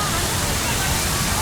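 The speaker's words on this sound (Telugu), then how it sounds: "See, ఇది మొత్తం వాటర్ ఫాల్." Water cascading down the Crown Fountain in Chicago, a steady, close, continuous rush and splash with no break, filling the whole short stretch.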